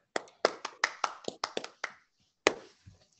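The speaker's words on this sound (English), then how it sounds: "You all deserve a round of applause." A few people clap for participants at a virtual read-a-thon finale, about a dozen sharp, sparse claps with gaps between them, close and dry, ending after a short pause.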